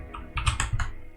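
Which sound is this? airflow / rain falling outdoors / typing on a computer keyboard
typing on a computer keyboard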